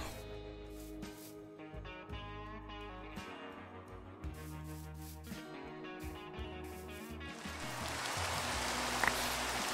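Rain falls in the video game Minecraft as a soft broadband hiss. It stays mostly hidden under steady background music, then swells louder and more evident over the last couple of seconds.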